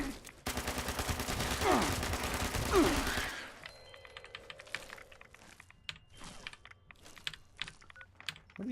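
Rapid automatic gunfire from a favored gun in Fallout 76, a dense, loud burst of shots lasting about three seconds, then quieter scattered clicks and thumps of movement and looting.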